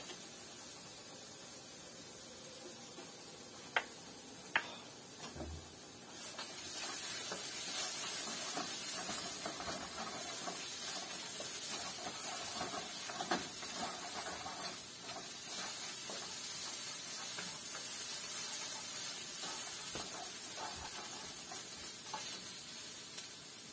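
Hot oil hissing and sizzling in a pan while egg fried rice cooks, a few clicks first, then a sustained, moderately loud spray-like sizzle that holds steady to the end.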